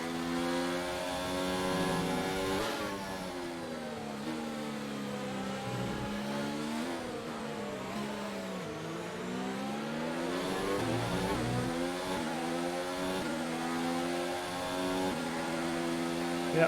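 High-revving F1 car engine from F1 2019 held in fifth gear, a steady loud whine with harmonics rising and falling as speed shifts, continuous and close throughout.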